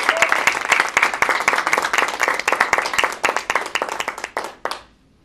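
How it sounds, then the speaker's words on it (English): A Toastmasters club audience claps to welcome a speaker, crisp close hand claps forming brisk, fairly loud applause that thins out and stops abruptly into silence. "let's give him a warm round of applause and make him feel welcome, Mr. David."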